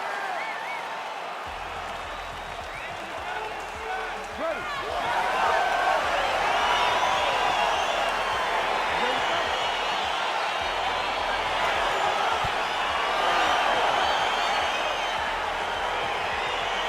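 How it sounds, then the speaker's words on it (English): A video game arena crowd roars and cheers continuously at the start of a UFC 4 bout between Shavkat Rakhmonov and Conor McGregor, swelling louder midway, with a commentator talking over it. "crowd getting excited as this fight gets underway"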